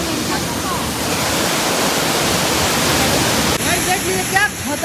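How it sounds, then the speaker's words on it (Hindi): A loud, constant roar of a waterfall fills everything, a dense rushing wash of water with a voice faintly audible beneath it near the end. "देखिए क्या खतरनाक झरना है भाई, और इसका साउंड सुन लीजिए आप"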